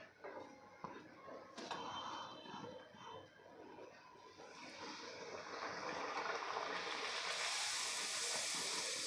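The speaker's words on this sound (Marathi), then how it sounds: "तुम्हाला अजून एक पुरी मी तळून दाखवते" Puri deep-frying in hot oil in a kadhai, a soft continuous hiss and bubbling sizzle that grows louder and brighter toward the end, with a couple of faint clicks early on and no speech.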